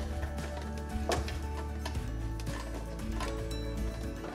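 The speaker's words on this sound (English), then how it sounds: "I love the sound of my sewing machine." A sewing machine runs steadily, topstitching pleats on a face mask sewn from an old shirt, with a dense, continuous mechanical clatter and rapid rhythmic ticking throughout.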